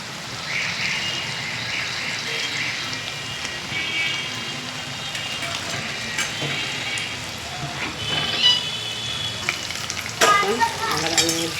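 Banana fritters (kolar phuluri) crackle in hot oil with a continuous, fairly loud sizzle, and a few brighter clinks and spatters come near the end.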